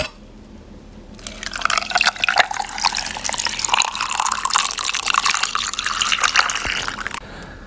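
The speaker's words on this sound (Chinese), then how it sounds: "我要喝水，给大家听水的声音" Water running and dripping close up, with liquid splashes and trickles filling a container in a steady wet stream for several seconds, framed by brief quiet at the start and end; no talking.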